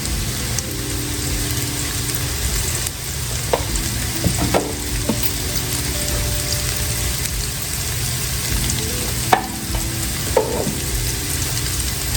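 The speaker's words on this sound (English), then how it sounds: "we're just gonna saute these until they are cooked." Chicken pieces seasoned with salt and pepper sautéing in a pan, a dense steady crackling sizzle with occasional utensil clicks and scrapes, close and continuous, no speech.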